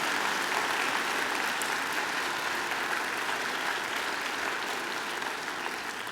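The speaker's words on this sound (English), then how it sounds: "I think she deserves another great round of applause." A graduation ceremony audience applauds the singer Angela, a steady, dense wash of clapping from a large crowd in a hall that holds at an even level throughout.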